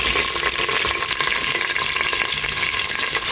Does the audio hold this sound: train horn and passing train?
no